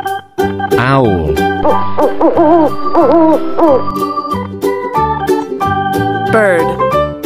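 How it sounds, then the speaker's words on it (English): An owl hoots repeatedly, loud and near, with steady musical tones running underneath throughout. "Owl."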